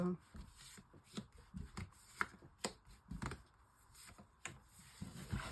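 Tarot cards being shuffled for a five-card spread, heard as close, crisp riffling and slapping bursts in an uneven rhythm, with faint room noise between the shuffles.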